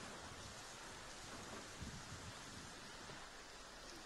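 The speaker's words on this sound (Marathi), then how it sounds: "शहराच्या अनेक भागात मुसळधार पावसाच्या सरी कोसळत असल्याचं पाहायला मिळतंय" Heavy unseasonal rain over Mumbai in the afternoon, a steady dense hiss of downpour with a low thunder rumble swelling near the middle, no voices.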